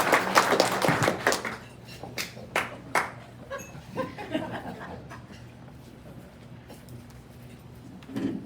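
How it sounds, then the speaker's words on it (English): Scattered clapping from a small audience at a meeting, with a few sharp claps and some light laughter, fading into quiet room noise. "Thank you for that round of rousing applause."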